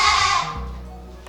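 A goat on a farm gives a single drawn-out bleat, loud and close at first, then fading, with a faint voice underneath.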